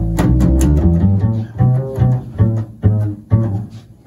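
Plucked double bass notes ring out one after another, deep and resonant with soft thumping attacks and short decays, played solo up close.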